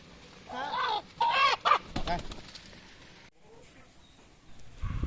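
A few loud, harsh squawking clucks from a broody hen in quick bursts, then quieter background rustling with a low thump at the end.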